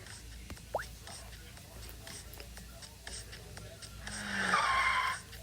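A fancy sports car skids in a puppet show, a short screeching tire squeal rising loudly near the end, with quieter sounds earlier.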